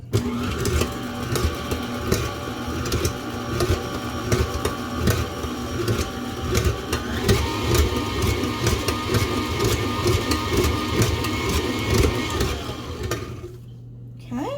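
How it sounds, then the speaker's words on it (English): An electric mixer on a medium to high setting beats Polish apple cake batter in a bowl, a steady, close, whirring drone that continues for several seconds before cutting off, with occasional talk over it. "Don't be afraid to put your mixer to a medium to high setting so that you make sure everything is really mixed up."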